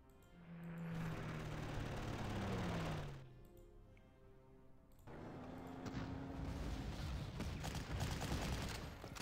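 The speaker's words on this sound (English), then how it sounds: "Let's fire again, this time with the Sturmpanzer." Tank cannon fire in the wartime strategy game Panzer Corps, a heavy rumbling blast that swells and fades, then a second sustained booming barrage with crackling debris under it.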